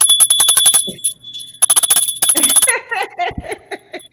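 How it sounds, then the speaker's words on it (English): A bell rings repeatedly and steadily for a few seconds, clear and fairly loud, mixed with rapid chatter and knocks, and voices continue after the ringing stops. "you see how he rang that bell"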